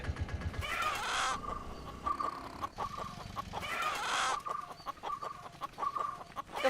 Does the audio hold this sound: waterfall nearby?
no